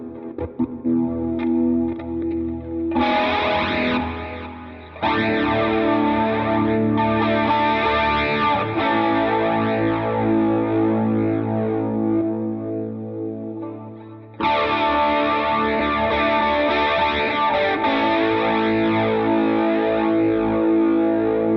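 Electric guitar through a Positive Grid RIFF with distortion and chorus effects, sustained driven chords and notes ringing loud and close, with brief breaks between phrases and no talk.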